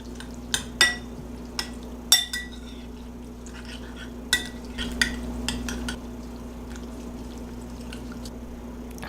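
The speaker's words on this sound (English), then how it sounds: "Just going to stir all this together." Chicken with balsamic glaze and seasonings is stirred in a pan, making scattered scrapes and clinks of a utensil over a low steady hum, close and fairly quiet.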